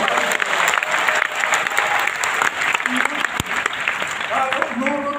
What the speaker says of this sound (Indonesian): kita berikan tepuk tangan yuk buat Tuhan